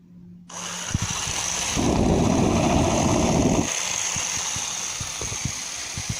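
An electric motor on a baked bean amphibious racer runs on a test stand, starting up with a whirring hum that rises into a louder buzzing, grinding burst for a couple of seconds, then settles back to a steady whine with faint clicks.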